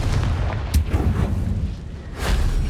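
A Confringo spell explosion in the Hogwarts Legacy video game, a deep booming blast with a rumbling tail followed by a second heavy burst, no talk.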